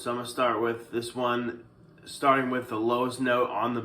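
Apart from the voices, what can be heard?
None of the usual background noises is heard.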